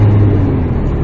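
A PT Cruiser GT turbo engine with a Mopar Stage 1 tune, intake and exhaust, pulls hard under acceleration in a loud, brief, steady roar close by.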